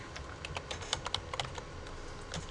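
Typing on a computer keyboard while entering a short line of script code, a steady close patter of key clicks with no talk.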